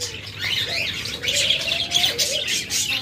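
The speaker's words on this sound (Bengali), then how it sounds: "এখানে অনেকগুলো নিউ অ্যাডাল পাখি রয়েছে" A flock of caged pet birds, including lovebirds, chirps and tweets continuously and loudly nearby, with busy overlapping calls and a few cooing notes.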